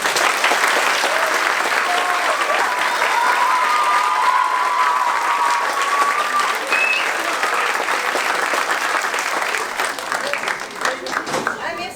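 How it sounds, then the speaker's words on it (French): Loud, sustained applause fills the hall at a gala as the audience claps steadily for around twelve seconds, with faint voices mixed in before it thins at the end. "Vous pouvez les applaudir très fort."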